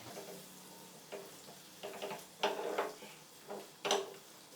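Maida flour roasting in a pan at a low, faint level, with soft sizzling broken by several louder scrapes and clinks of a spoon stirring against the pan.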